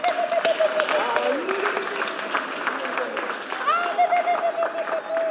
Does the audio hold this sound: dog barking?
no